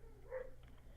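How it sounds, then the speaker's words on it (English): A husky barks indoors while playing with a German Shepherd: a single short, mid-loud bark or yelp rises briefly over a low steady hum. "Please excuse the constant barking from the husky."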